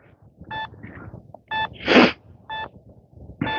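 Metal detector beeping single-return signal tones outdoors at night in winter while hunting for coins. Three clean, evenly spaced electronic beeps sound about a second apart, mixed with soft rustling and one breathy noise burst.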